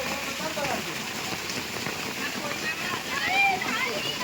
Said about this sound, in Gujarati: ફૂલ વરસાદ ગાઈસ